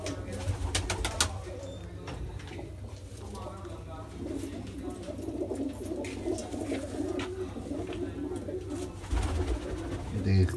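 Pigeons kept by a breeder coo softly nearby, low repeated calls rising and falling across the stretch, mixed with rustling and a voice talking at intervals.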